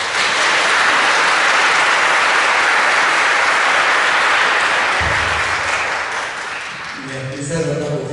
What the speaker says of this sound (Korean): 뜨거운 박수 다시 한번 부탁드리겠습니다